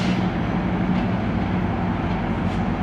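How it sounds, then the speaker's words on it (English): GO commuter train passing, a loud continuous low rumble and rolling hum of rail cars, steady and close throughout with no speech. "Here comes a GO train"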